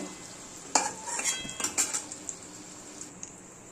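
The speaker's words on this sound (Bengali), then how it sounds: "আমার আলুটা ভাজা হয়ে গেছে আমি তুলে নিচ্ছি" Fried potatoes are lifted out of hot oil in a pan, giving a few sharp clinks of a metal utensil against the pan over a faint sizzle. The sounds come in a cluster, then fade to quiet, with no talking.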